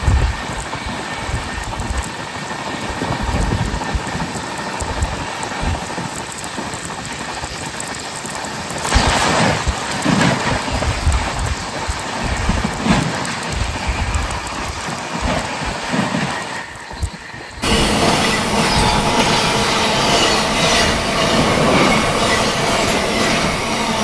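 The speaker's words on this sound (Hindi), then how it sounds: "अभी हमारी train Mumbai Jaipur superfast express train को क्रॉस करने वाली है।" Aboard the Ahmedabad–Pune Duranto Express at night, the train roars and rattles with loud wheel clatter as it crosses the Mumbai Jaipur Superfast Express. The rush shifts abruptly into a denser, steadier roar near the end.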